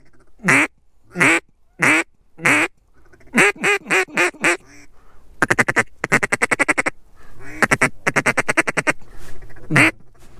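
Mallard ducks quack in a field in repeated bursts, first in short spaced calls, then in rapid runs of quacks, loud and fairly close with a faint hum underneath.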